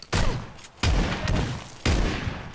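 Shotgun blasts in a video game: three loud, booming shots spaced roughly a second apart, each with a sharp attack and a short rumbling decay, heard close and without talk.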